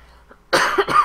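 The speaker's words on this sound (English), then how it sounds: "Again, I apologize for coughing." A person recovering from a cold coughs twice in quick succession, sharp and close, after a brief quiet pause.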